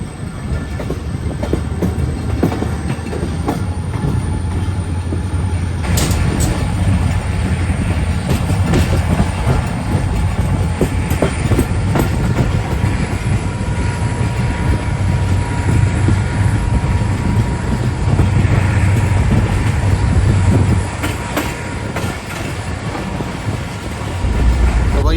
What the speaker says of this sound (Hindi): तो सिंध के दिल से ट्रेन हमारी निकल गई है।